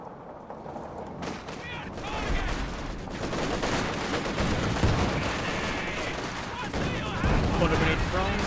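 Artillery barrage from a leIG 18 infantry gun in the real-time strategy game Company of Heroes 2, heard as dense, continuous battle noise of shell blasts and gunfire over several seconds, with voices speaking underneath.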